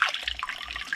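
Stream water pours into barrels in Cambodia, a brief burst of bubbling, gurgling splashes close by.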